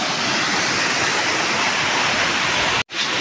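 Small jungle waterfall pouring steadily as a dense, broadband rush of water, close and continuous, with a brief dropout near the end.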